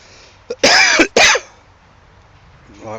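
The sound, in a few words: cough and throat clearing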